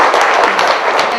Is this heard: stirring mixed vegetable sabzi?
no